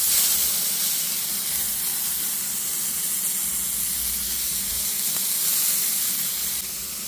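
Chicken frying in a pan, a steady hissing sizzle that stays loud and even from start to finish, dropping slightly at the very end, with no voices.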